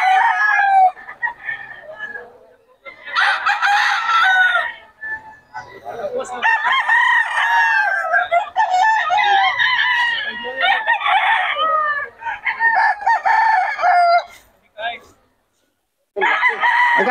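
Gamefowl roosters crow repeatedly at a Bocaue market, loud and close, with several overlapping cock-a-doodle-doo calls and some clucking filling most of the stretch and only brief gaps between bursts.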